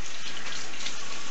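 Hot water runs steadily from a tap, a loud continuous splashing rush with no pauses.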